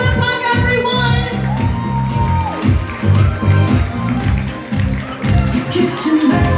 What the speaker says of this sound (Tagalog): Isang malakas na palakpak, everyone!